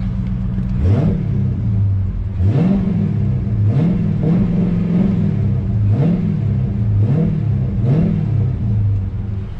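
A cold 2018 Dodge Challenger ScatPack 6.4L V8 with a BBK 85mm throttle body revs hard about six times in steady succession, heard from inside the car with the door open, its deep exhaust rumble loud and rising with each blip.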